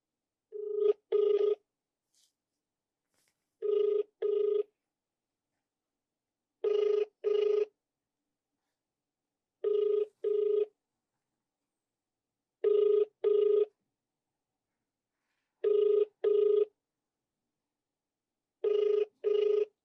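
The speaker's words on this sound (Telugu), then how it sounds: "ఫోన్ రింగ్ అవుతుంది" A telephone rings in repeated double bursts, eight rings spaced evenly about every three seconds, clear and alone against silence.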